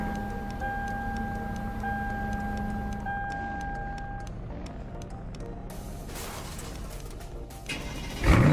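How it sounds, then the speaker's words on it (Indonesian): A car engine cranks and catches in a roleplay video game, rising to a loud burst at the very end after a stretch of quiet ambience with repeating high beeps and faint chirps, no talking. "Wow, itu start engine mobil aku."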